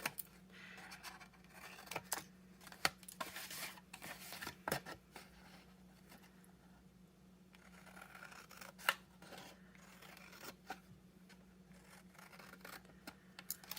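Faint, close snipping and crunching of heavyweight Stampin' Up! scissors cutting paper, with a few sharper clicks of the blades against a quiet background hum.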